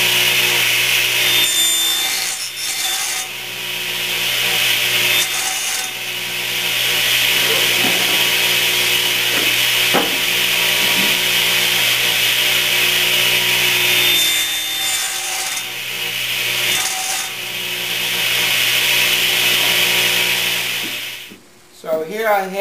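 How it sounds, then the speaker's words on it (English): A radial arm saw cuts veneer banding off a wood block clamped to the saw table, a loud, steady whining cut running nearly throughout, with brief dips, ending in a short rattle as the blade winds down. "I'll just whack these off with the radial saw."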